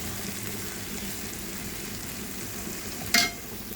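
Fish curry with dry fruits being stirred in a hot pan, a steady soft sizzle running throughout with one brief sharp scrape of the spoon near the end, fairly faint and close.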